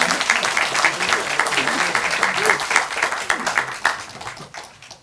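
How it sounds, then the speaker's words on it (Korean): Warm applause from an audience at a ruling party lawmakers' general assembly, steady dense clapping throughout, nearby and fairly loud, tapering off near the end. "격려의 뜨거운 박수 주시면 좋을 것 같습니다"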